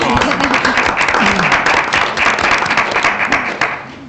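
An audience applauds at a school district board of education meeting, brisk, dense clapping filling the room, with voices murmuring beneath it before it begins to taper off.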